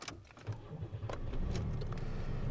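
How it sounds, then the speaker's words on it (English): A GM car engine is started: a brief low cranking rumble catches and settles into a quiet, steady idle, heard close by with some small clicks at the start. "I'll start the car up here."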